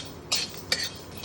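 Whole spices are dry roasted in a dry pan: two quick, light scraping clinks of a utensil stirring them against the metal, heard close and alone.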